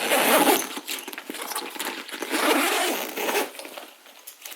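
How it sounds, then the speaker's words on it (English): A backpack zipper is drawn open and shut several times, close up, with a rough ripping rasp that swells and fades. "The zipper is really smooth."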